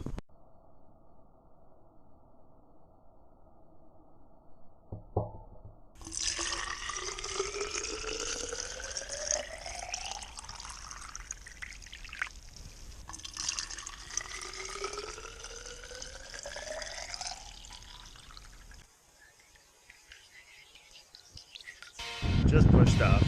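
Water runs into bicycle bottles held in bike cages before a long ride. Two separate fills each rise steadily in pitch as the bottles fill, close by over a quiet background.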